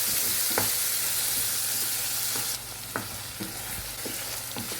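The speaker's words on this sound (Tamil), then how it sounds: "தக்காளி சேர்த்துட்டு அதை நல்லா வதக்கி விட்டுக்கலாம்" Chopped tomatoes sauté in hot oil in a pan for a lentil-free sambar, a steady dense sizzle with occasional spatula taps and scrapes, the hiss dropping a little partway through.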